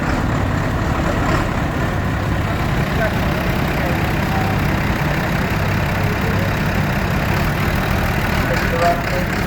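A vintage tractor engine runs steadily at a steam rally parade, a low continuous throbbing rumble with a faint regular hum, set against outdoor background noise and some distant talk.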